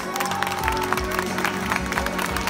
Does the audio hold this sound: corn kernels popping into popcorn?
no